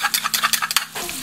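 Meat and garlic browning in a hot frying pan, with a rapid run of close spatula scrapes and clicks over a bright sizzle that settles into a steadier hiss, no talking.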